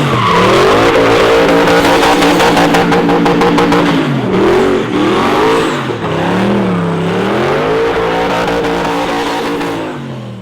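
Loud close engine of a 1987 Mazda B2000 truck with twin Turbonetic 60mm turbos and an LS swap, revving and dipping in pitch continuously at a car show event.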